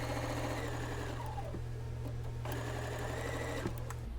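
A sewing machine runs steadily, stitching slowly through bulky quilt block seams, its motor giving a continuous close, even mechanical hum and needle rattle before stopping at the end.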